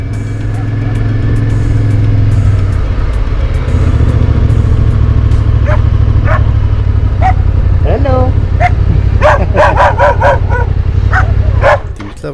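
Two dogs bark and yip in excited bursts during a motorcycle trip through hilly country near the Portugal border. A low engine rumble runs underneath, and the barks cluster close and loud toward the end.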